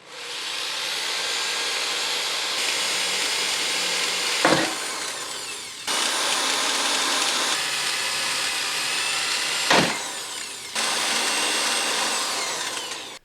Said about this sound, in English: Drill pilot holes only into the first layer.